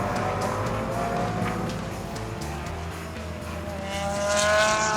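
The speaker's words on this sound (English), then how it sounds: "But the cars weave their way around now." Race cars lapping a circuit during a Blancpain Sprint Series race in Moscow, engines droning loudly and continuously, with rising and falling pitch as cars pass and shift, and a surge of engine noise near the end.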